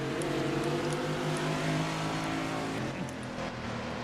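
Race cars on the Silverstone road course in a racing video game, with engines droning loudly and continuously throughout and no talk over them.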